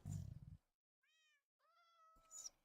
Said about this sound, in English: Hello, little kitty cat.